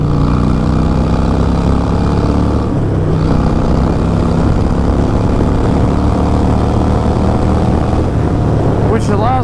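A Harley-Davidson Iron 883 motorcycle fitted with a 1275 Hammer Performance big-bore kit runs loud and close, its engine roaring in a sustained, thick drone that barely lets up.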